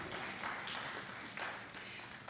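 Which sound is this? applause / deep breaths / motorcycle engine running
applause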